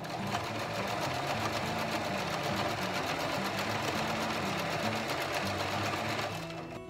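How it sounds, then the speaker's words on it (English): A sewing machine stitches thick upholstery material in a steady, rapid mechanical whir with a regular motor drone, close and continuous with no pauses. "I really like sewing on upholstery material."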